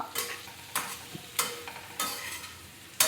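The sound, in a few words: stirring boiled potatoes into the pan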